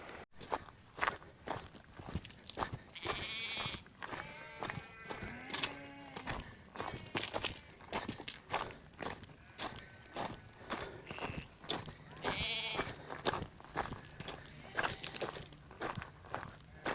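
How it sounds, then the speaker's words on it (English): A closely sheared, very white sheep bleats a few wavering times on an open fell, mixed in with nearby crunching footsteps on rough ground and other bleats in the distance. "It's one of the whitest sheep I've ever seen."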